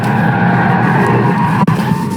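A Tesla Model 3 in Track Mode V2 driving on a race circuit gives a loud, steady electric motor whine with road and tyre roar, briefly cut by a sharp dropout near the end.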